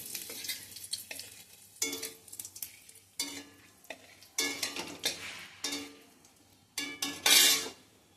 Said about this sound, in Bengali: এবারে ওই তেলের মধ্যেই আমি জিরে, শুকনো লঙ্কা, তেজপাতা ফোড়ন দিয়ে দিলাম